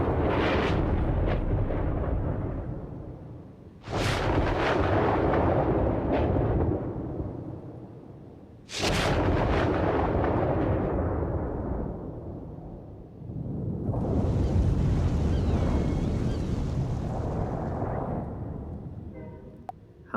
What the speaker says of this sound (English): So we've got what sounded like a thunderstorm or lightning, maybe even rockets firing at the start, and then the calm afterwards with some seagulls.